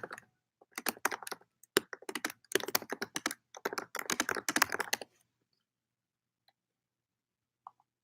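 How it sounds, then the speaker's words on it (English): Rapid clicking and tapping of buttons on a computer keyboard and mouse, dense bursts for about five seconds, then near silence with a few isolated faint clicks; close and fairly loud, no talking. "So I'm waiting on Jeffrey, clicking buttons on this live to see what it's doing"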